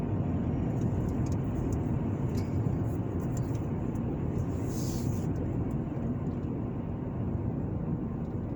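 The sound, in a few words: car driving along a road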